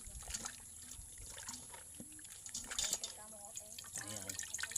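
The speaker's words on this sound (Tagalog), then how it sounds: "So hugasan natin ng tubig." Cassava leaves are washed and squeezed in water, giving close, quiet splashing, dripping and sloshing, with a person talking over it.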